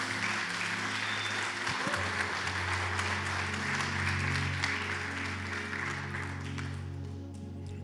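A church congregation applauds steadily for several seconds, a dense, even wash of clapping with a low hum beneath, tapering off slightly toward the end.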